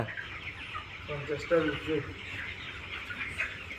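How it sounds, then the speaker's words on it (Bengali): Broiler chickens in a farm shed during winter, soft scattered clucks and chirps from a crowded flock under low background noise, with brief human voices nearby. "এখন মুরগি বড় বড় হইছে"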